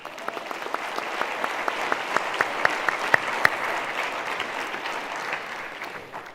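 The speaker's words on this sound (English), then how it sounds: "Another round of applause." Steady applause from a large crowd at a university graduation ceremony, a dense wash of clapping that holds for several seconds.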